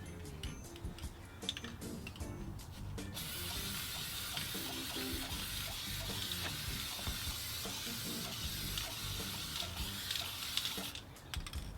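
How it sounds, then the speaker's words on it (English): A long, steady hiss from a spray can, close and constant for several seconds, with faint ticking and clicks before and after, during hydro dipping of a OneWheel fender. "I'm going to spray a bunch of this on."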